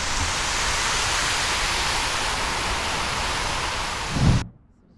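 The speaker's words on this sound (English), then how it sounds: "I found the fountain." Steady broadband water splashing from a public fountain in Hiroshima, loud and continuous with no talk, then cutting off abruptly near the end.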